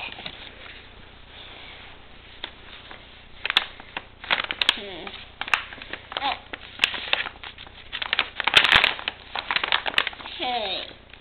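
Paper crinkles and rustles in bursts as a package is torn open, with a voice and another person speaking softly nearby.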